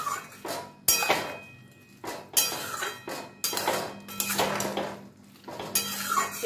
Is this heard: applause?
no